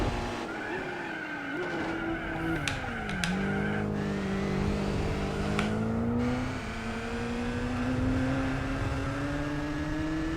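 A race car in Gran Turismo 4 brakes hard into a corner: the engine note drops sharply as it downshifts, tires squeal and skid, then the revs climb again as it accelerates out, loud and continuous.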